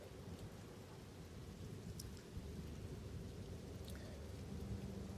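Rain in the video game Path of Exile 2: a steady, soft hiss of rainfall with low rumbling underneath, quiet and continuous, with no speech.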